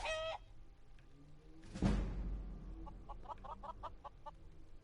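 Video-game chickens in a modded fantasy game give a squawk, then a heavy hit lands and a run of rapid, rhythmic clucks follows, moderately close.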